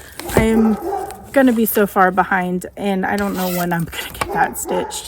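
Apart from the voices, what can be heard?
dog barking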